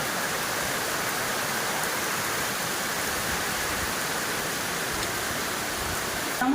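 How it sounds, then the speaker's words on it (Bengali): Heavy rain pours steadily outside a home on a dark afternoon, a dense unbroken hiss that stays loud and even throughout, with no voices over it. "কি জোরে বৃষ্টি এসছে বাইরে"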